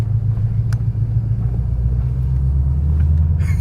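A car rolls slowly down a driveway toward an abandoned-looking property, its engine giving a loud, steady low rumble close by, with no talk.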